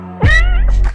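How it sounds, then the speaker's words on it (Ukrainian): A cat meows inside a Roblox game, one loud, drawn-out, wavering cry close up, followed by two shorter, softer mews near the end. "Ні, це кіт."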